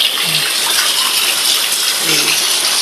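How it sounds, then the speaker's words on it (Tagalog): Heavy rain pouring in Los Baños, Laguna, a loud, constant rushing wash of water with a faint low murmur twice beneath it. "Lakas pa ng ulan"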